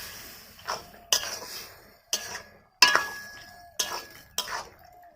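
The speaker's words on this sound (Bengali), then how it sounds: "তো খুব ভালো করে সবকিছু মিশিয়ে নিচ্ছি।" A utensil clinks and scrapes against a pan, about six sharp separate strikes in an uneven rhythm, as vegetable curry with fried lentil dumplings is stirred and mixed. No one talks.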